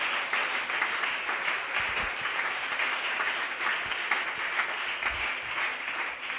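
Congregation in a church breaking into steady, sustained applause at a worship service, a dense wash of many hands clapping evenly throughout with no voices standing out.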